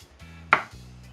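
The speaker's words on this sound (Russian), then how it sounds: "теперь порежем курицу для жарки" A knife cuts through chicken for frying, one crisp chop on the board amid a faint low hum, heard alone without talk.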